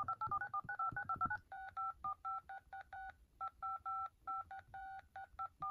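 A quick run of keypad dialing tones on the original first-generation iPhone's phone app: clean, evenly spaced dual-pitch beeps, close and clear with no talking.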